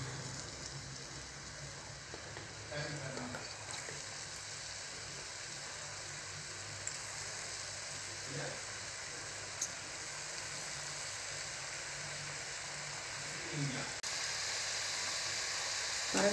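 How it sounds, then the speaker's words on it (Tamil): Jackfruit seed bonda frying in hot oil gives a steady, moderate sizzle that holds evenly throughout, with a few faint stirring or placement sounds and no voices. "இப்போ ஒவ்வொரு பலாக்கட்டையாக போட்டு ஃப்ரை பண்ணிக்கலாம்."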